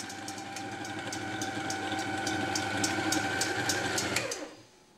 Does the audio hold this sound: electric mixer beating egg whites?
yes